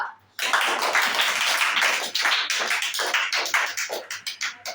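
A group claps hands together, first as a dense burst of applause, then settling into a steady rhythmic clapping that gradually thins out.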